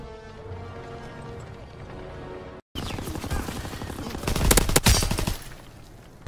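Rapid machine-gun fire from an MG15 in a video game, a dense rattling burst after a brief silent gap, growing louder toward the end with faint voice underneath.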